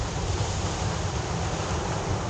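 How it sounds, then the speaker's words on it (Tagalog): Strong ocean waves roar continuously nearby, a heavy, steady wash of surf mixed with wind, with no voices. "Uy, lakas ng alon, grabe."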